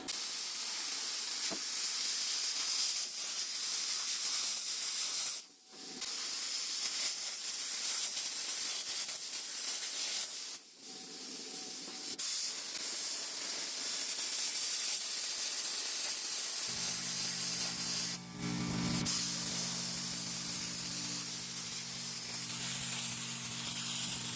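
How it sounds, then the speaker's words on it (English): A Sunstac SS-50C plasma cutter slices 3/8-inch steel coupons, making a steady, loud, close hissing roar that runs the whole time with a few brief dips, and a low hum joins near the end. "Now I got a couple of coupons traced out here we're going to cut out."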